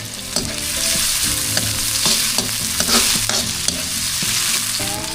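Garlic, ginger and onion sauté in hot oil in a pan, a steady close sizzle with repeated scraping stirs and clacks of a utensil against the pan throughout.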